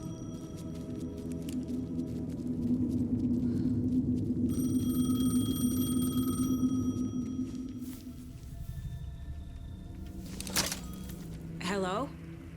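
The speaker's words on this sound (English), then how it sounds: "payphone was ringing. Somehow I knew the call was for me." A payphone rings in the video game Alan Wake, a repeated electronic ringing tone that swells over a droning ambient hum with some clattering, then fades out near the end.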